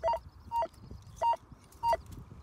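A Rutus Argo NE metal detector gives a high, repeatable signal: four short bright double-beeps spaced about half a second apart, clear and close over faint background hiss.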